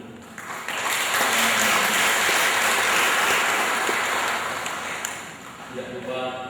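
Applause for a choir in a church at a wedding, sustained clapping from the congregation swelling after a second and tapering near the end, with a voice speaking over the start.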